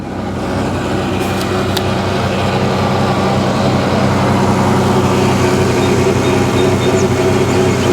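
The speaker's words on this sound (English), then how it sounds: "Take a quick peek at the engine while it's running and see what we think about that." A running car engine heard up close, giving a smooth, even hum and whir that holds at a constant level for the whole stretch, with no talking.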